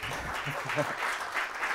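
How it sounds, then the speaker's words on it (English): Audience applause at an academic talk on learning histories and sustainable societies, a short burst of clapping with a voice briefly audible over it. "yeah, I think that's applause."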